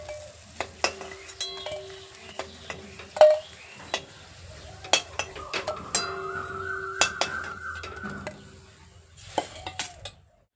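Jackfruit kofta balls fry in a pan of oil with a soft sizzle underneath, while a utensil repeatedly clinks and scrapes against the pan and one short tonal ring sounds near the middle.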